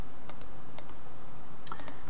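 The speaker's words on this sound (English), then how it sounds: "I'm going to go type in anima, which will bring me up to animation" A computer keyboard gives a few sparse, light key clicks over a steady low background hum.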